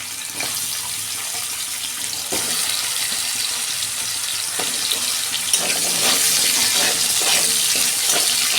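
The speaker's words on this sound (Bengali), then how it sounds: "ওই কড়াতেই আমি আলুটা ভেজে নেব।" Sliced potatoes frying in hot oil in a wok, a steady dense sizzle that holds at close range and grows louder and busier toward the end.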